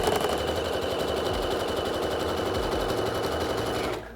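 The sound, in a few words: sewing machine zigzag stitching trouser seam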